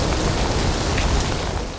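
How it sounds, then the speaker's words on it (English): Heavy rain drums steadily on a roof, a dense, loud, continuous roar without pause. "Rain pounds the roof."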